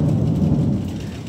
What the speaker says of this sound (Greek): Αυτές είναι αστραπές και βροντές!